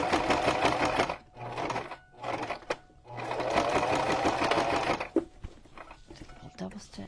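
A sewing machine stitches through a junk journal cover in loud, whirring bursts broken by short pauses, ending in a few uneven clicks and bumps as the stitching stops.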